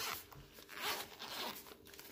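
A zipper opens on the back pouch of an ECEEN foldable solar panel charger, giving a close, quiet, continuous rasping pull lasting about two seconds, with no talk.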